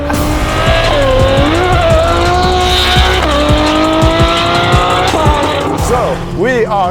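A 1000 hp McLaren 720S with a Novitec exhaust roars at high speed on a desert run, its engine pitch climbing and dropping through gear changes, loud and close, with voices talking over it.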